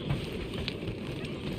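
Steady rain hisses down across an alien planet in the video game Guardians of the Galaxy, a dense, even wash of drops with no break.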